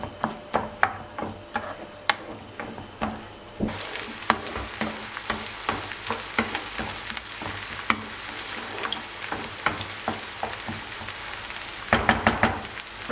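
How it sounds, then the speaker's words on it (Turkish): Finely chopped onions, two medium dry onions, sautéing in hot oil in a pan while cooking kısır, a steady close sizzle and frying crackle with frequent sharp pops and stirring scrapes, louder after the first few seconds, with no talking. "2 adet orta boy kuru soğanı küçük küçük doğradım. Onu ilave edip pembeleşene kadar kavuruyorum."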